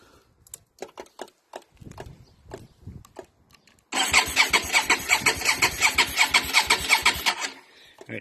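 An engine fitted with a 3D printed single carburettor inlet manifold conversion starts up after a few seconds of quiet clicks and shuffling, then runs loud and steady with a rough pulsing beat, close by.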